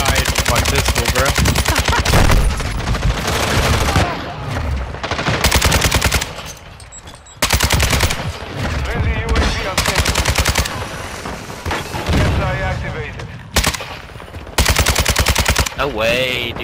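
Rapid pistol gunfire from Call of Duty: Modern Warfare II comes in loud, dense bursts of repeated shots, broken by short pauses, while players talk over the shooting.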